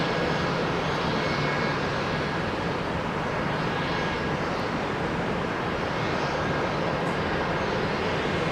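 A Southwest Boeing 737-800 departs runway 30 Left at Minneapolis–St. Paul, its engines giving a steady, loud, broadband roar that holds unbroken for the whole stretch, with no voices over it.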